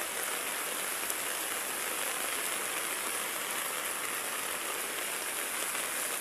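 Heavy rain from a typhoon and rushing floodwater roar steadily and loudly throughout, a dense unbroken wash of water noise with no voices.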